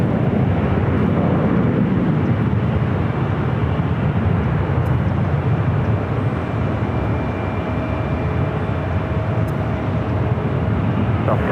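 A Delta Airbus A321 jet at Los Angeles International Airport, heard as a loud, sustained rumbling engine roar that holds steady throughout, with no voices.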